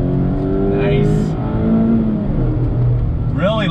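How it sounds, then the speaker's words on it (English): A 2019 Mazda MX-5 Miata RF with a naturally aspirated engine revs and accelerates toward a 7,500 RPM redline. Rising engine tones and a gear change are heard from inside the car, with steady road noise. "That naturally aspirated engine just wants to scream and pull all the way to redline."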